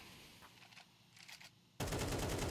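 Loud, dense burst of gunfire erupts near the end of an ESEA Season 49 Advanced esports match between eefsports and Akimbo Esports, following quieter scattered game noises.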